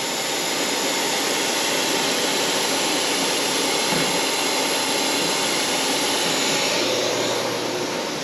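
A ShopBot CNC machine traveling along its X axis during a calibration routine gives a steady, loud, broadband whirring roar that holds evenly throughout with no voices.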